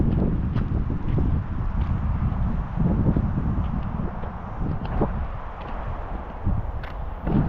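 Wind buffets a microphone outdoors on Mt Roskill in Auckland, a steady low rumble with gusty fluctuations and no talk.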